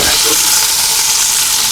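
Bacon strips frying in a Cosori multi cooker, a dense, loud, continuous sizzle and crackle of hot fat, close up and steady throughout, with no talking.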